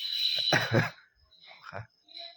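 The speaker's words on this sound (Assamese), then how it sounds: "কাহো বহুত উঠি আছে" A person coughs a few times up close, short harsh bursts separated by brief pauses.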